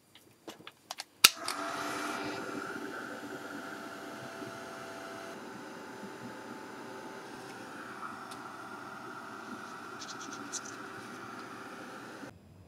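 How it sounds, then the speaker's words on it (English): A heat gun runs in a steady, fairly quiet whoosh and hum while drying Distress ink and Moonshadow mist on a card, preceded by a few small clicks and a sharp snap as it switches on. "I'm going to need to dry this with a heat gun"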